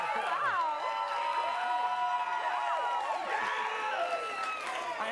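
A studio audience cheers and whoops loudly, with applause running throughout, a steady wall of crowd noise carrying many overlapping high voices.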